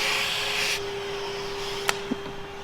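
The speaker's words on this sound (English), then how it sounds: "we're just going to vacuum up a little bit before we pull it all apart" A vacuum cleaner runs with a steady hum and hiss while cleaning inside a broken, junked machine, its airy noise dropping partway through, followed by a couple of sharp clicks.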